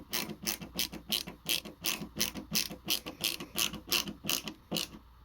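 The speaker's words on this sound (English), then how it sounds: "I'll let you listen to what the ratcheting feature sounds like." Klein Tools ProFlex impact-rated ratcheting T-handle bit driver clicking through its ratchet, a steady run of about a dozen crisp, close mechanical pawl clicks in even rhythm, heard alone with no talking.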